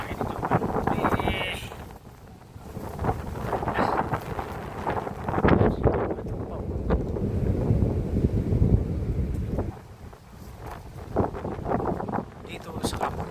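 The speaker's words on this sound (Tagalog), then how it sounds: "Lakas ng hangin ito, mga Lodi." Strong mountain wind buffets the microphone in loud, uneven gusts and rumbles, with someone talking over it throughout.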